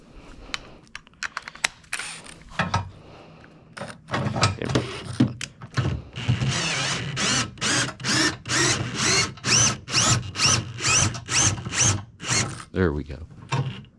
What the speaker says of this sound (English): So take the drill.